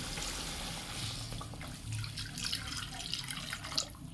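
Water poured into a pan of spices cooking for an ol (elephant foot yam) dish, a soft steady trickle and splash with a quiet hiss underneath, low in level and close, no voices.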